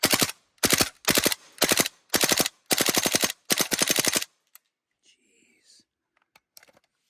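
An AK-style gel blaster fitted with an ACETECH tracer unit fires loud, close bursts of rapid full-auto shots, about seven strings in a row, followed by near silence with a few faint clicks and handling noises.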